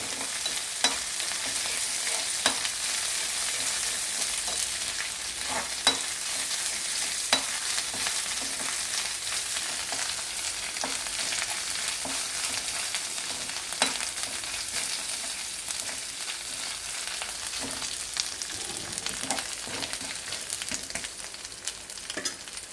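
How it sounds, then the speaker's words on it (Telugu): Ginger and garlic fry in a pan with a steady, loud sizzle, broken by occasional stirring scrapes and small pops, with no voices. "కొంచెం అల్లం వెల్లిపాయ పచ్చివాసన పోయేంతసేపు ఫ్రై చేయాలి."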